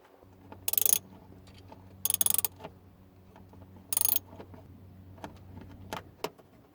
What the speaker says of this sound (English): put the bolt back on that I took out to just move this cover a little bit